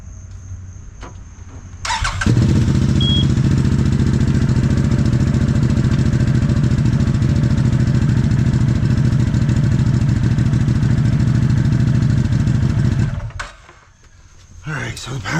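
An ATV engine cranks and catches after a moment of quiet, then runs at a loud, steady idle for about eleven seconds before cutting off, close by and with no one speaking over it.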